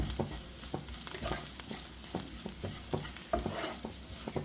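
Spice powders being stirred and fried into an onion masala for egg keema, with rhythmic scraping spoon strokes over a continuous close sizzle and no speech.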